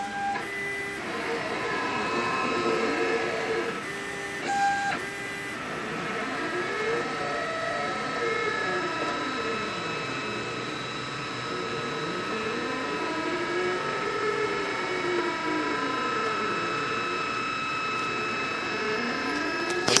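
A vinyl plotter cuts vinyl with a steady mechanical whir, its motor pitch rising and falling in repeated sweeping arcs as the rollers drive the sheet back and forth. The sound is close and even, with a brief clatter near the start and no talk.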